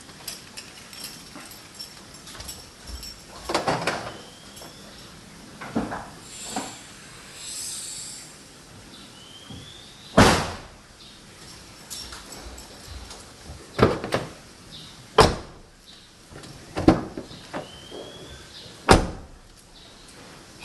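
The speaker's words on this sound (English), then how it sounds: "I'm going to do now is to replicate a collision by opening and closing a few of the doors quite firmly." Car doors are opened and shut firmly to simulate a collision for a dash cam in parking mode: a series of separate sharp thuds and slams spread over about twenty seconds, several loud and close, with quieter handling noises between.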